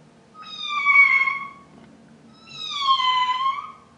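Two drawn-out meows imitated by a human voice, mimicking a cat during a playful yoga pose on all fours, each call rising and falling clearly with a short pause between them.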